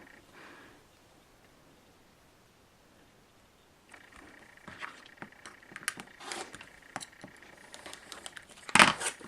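Quilt fabric being trimmed along its sides with a cutter, making faint scraping and crisp cutting strokes that start after a quiet stretch and build into a closing louder slice.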